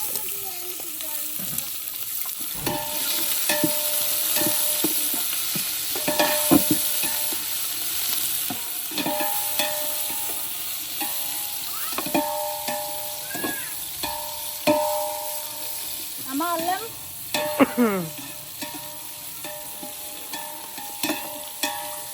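Bagara rice and mutton curry cooking in a pan: a steady sizzle runs throughout while a spoon stirs and scrapes, with repeated clanks and short scraping bursts, close and fairly loud, no talking.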